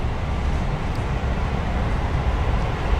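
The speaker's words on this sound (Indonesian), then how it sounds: "Ada kereta api." A long train passing nearby, a loud, dense, continuous rumble and roar that holds steady without a break, with no speech over it.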